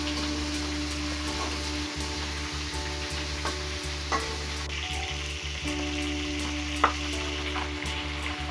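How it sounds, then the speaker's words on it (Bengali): A catla fish head fries in hot oil in a pan, a dense continuous crackling sizzle over a steady low hum, with scattered pops and a couple of louder spits, and no talking. "তো দেখতে পাচ্ছ মাছের মাথাটা ভালো করে একটু ভেজে নিয়েছে।"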